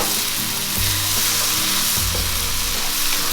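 Mixed vegetables frying in a pan with a splash of warm water, a steady loud sizzle with intermittent scraping and stirring knocks throughout, no voices.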